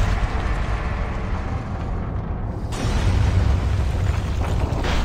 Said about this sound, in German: Während das hier alles explodiert